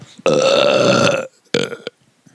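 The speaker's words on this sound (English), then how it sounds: "Ooh, had to burp." A loud, drawn-out burp close up, followed by a second shorter burp after a brief pause.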